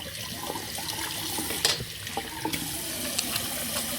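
Tap water running into a sink while someone rinses off after a wet shave with a Karve Overlander safety razor. The steady, close rush carries a few small splashes and knocks.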